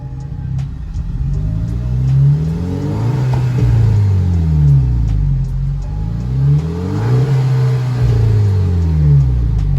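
A VW MK6 GTI with the stock downpipe and a Cobb catback exhaust revs repeatedly, a loud deep rumble rising and falling in several swelling pulls, close and alone with no voices.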